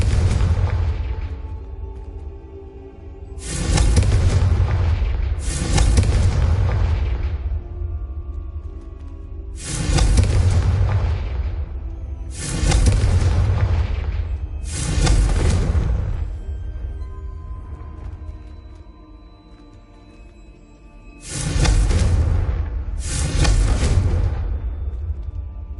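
Confringo and Bombarda spell explosions in a video game, a run of about eight heavy booming blasts, some in quick pairs, each rumbling and decaying over a few seconds, with no talking.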